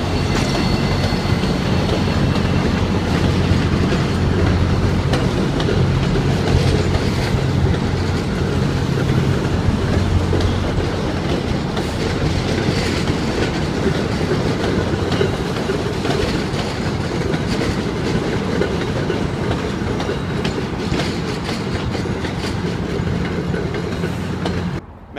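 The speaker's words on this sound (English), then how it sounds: "This train is going pretty slowly because it's leaving the station." A train leaving a station in Boston rumbles steadily along the tracks with rhythmic clacking wheels and a faint metallic squeal, moving slowly and continuously with no voices.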